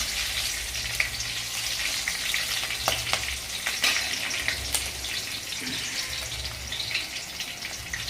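Split green chilies frying in a pan of oil for sabudana khichdi, a loud, continuous close sizzle with scattered pops and crackles and a few clinks, no talking.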